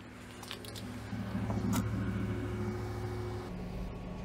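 A 2015 Ford Super Duty 6.2L truck engine idles after an ignition coil replacement, giving a steady, fairly quiet low rumble with a faint hum that stays even throughout.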